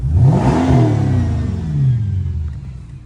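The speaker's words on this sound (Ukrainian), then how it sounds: "Послухайте, як працює двигун." A 2006 Mercedes-Benz S 500 engine revs up loudly close by, then settles into a deep, steady rumble that gradually fades.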